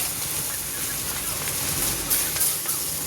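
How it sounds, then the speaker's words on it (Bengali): Green chilies and crushed garlic and ginger drop into very hot oil already holding nigella seeds, giving a loud, close, rain-like sizzling hiss with a few sharper crackles. "এবার কাঁচা লঙ্কা আর এই রসুন আদা এই থেতোটা দিয়ে দিলাম।"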